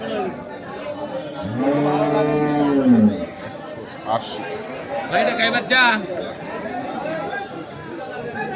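A dairy cow lets out a long, loud moo nearby, then a second shorter call, over a busy background of people chattering at the crowded Kaharol cattle market in Dinajpur.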